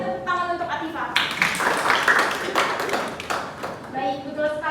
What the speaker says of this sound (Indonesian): Beri tepuk tangan untuk Atifa.